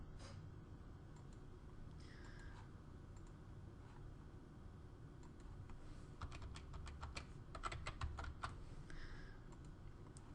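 Keys on a computer keyboard are typed in short bursts of quiet clicks, heard close and faint with no talk, and picking up toward the end.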